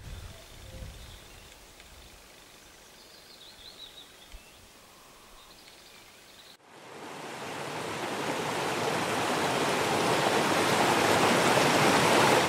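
A stream in a Swedish nature reserve flows with soft, distant rushing for the first half, then the water becomes a loud, dense, close roar that swells and holds steady to the end.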